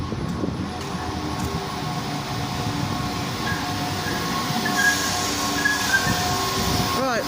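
A diesel train, unit 172218, rumbles steadily at a station in snowy weather, with a low continuous drone, faint squealing of wheels, and a voice speaking briefly in the background.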